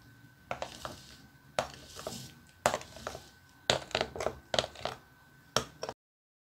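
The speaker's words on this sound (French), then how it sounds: "Ensuite, vous mélangez le tout. Donc là, vous faites tout mélanger ensemble." Cake ingredients mixed together in a bowl, heard as irregular close clinks and scraping knocks of a utensil against the bowl, fairly quiet and spaced in short bursts.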